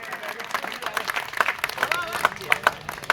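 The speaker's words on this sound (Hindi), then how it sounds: "और लीजिए एक बार जोरदार तालियां बजाकर इनका स्वागत और सम्मान करें।" Scattered clapping from a crowd at an outdoor political rally in Sangliya, uneven and moderately loud, with bursts of sharper claps and a little voice in the background.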